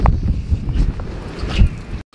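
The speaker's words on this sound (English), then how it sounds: "straight off the bat when I woke up, it was raining, windy." On a rainy, windy Iceland morning, gusts buffet the microphone in low rumbling bursts with faint patter and rustle, loud and close, before cutting off abruptly near the end.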